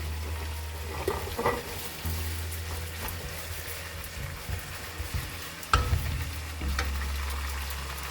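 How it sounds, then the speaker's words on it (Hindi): Chopped carrots stir-fried with chicken for a chow mein, a soft close sizzle under a steady low hum, broken by several bursts of scraping and clattering as the spatula tosses the pan, no speech. "सबसे पहले गाजर डालेंगे।"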